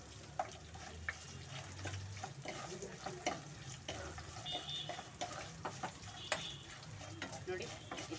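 Garlic and dry red chillies fry in hot oil for puliyogare. A steady, crackling sizzle is broken by scraping stirs and a few sharp pops.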